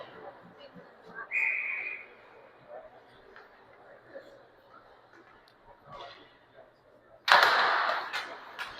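During a bantam ice hockey game, a referee's whistle gives a short shrill blast, then a louder burst of rink noise follows, while a commentator talks over the action.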